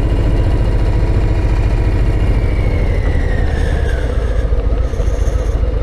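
A Harley-Davidson Low Rider ST motorcycle engine braking in second gear on a mountain pass, a loud, steady low rumble that runs without a break and sits close, with no talking.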